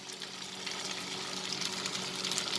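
French beans and capsicum sauteing in a pan make a soft, steady sizzle and crackle that grows slightly louder over a faint low hum, with no voices.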